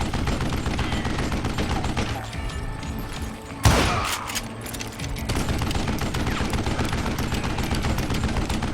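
Sustained bursts of gunfire crackle through a shootout in the Western video game Call of Juarez: Gunslinger, with rapid dense shots, a brief heavier blast near the middle, then continuous firing to the end.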